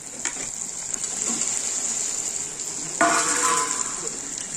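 Peas and potato frying in a spice mixture in a pan, with a steady hiss and sizzle throughout, briefly louder and more crackly partway through as the food is stirred.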